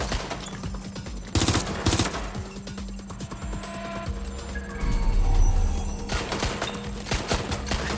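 Bursts of automatic gunfire ring out in the Watch Dogs: Legion video game, rapid cracking volleys in several clusters over steady background game sound, with no talking.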